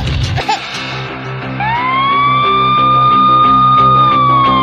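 A fire engine siren wails loudly and steadily, rising after a short burst of noise and holding its tone over a rhythmic background score, in a cartoon scene where a baby is about to fall from a high building.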